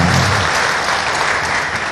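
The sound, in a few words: audience applause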